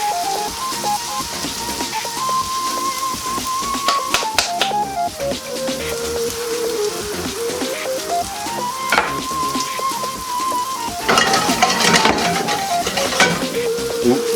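Shallots sautéing in butter in a pan give a steady, close sizzle throughout, with clinks of utensils and a brighter burst of frying noise near the end, while a tonal hum glides up and down beneath.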